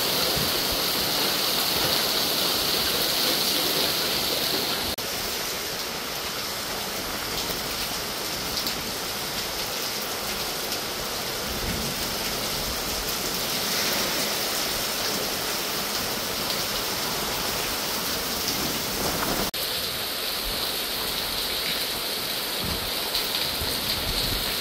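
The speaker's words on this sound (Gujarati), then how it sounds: "સવારથી જ વરસાદ વરસવાનો શરૂ થયો હતો" Steady morning rain falls over coastal villages near Alang in Bhavnagar, a dense, continuous hiss of drops on surfaces that holds an even loudness throughout with no voices.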